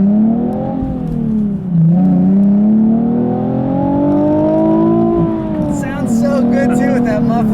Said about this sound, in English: I love these Nissan Z motors. They just are really a special sound.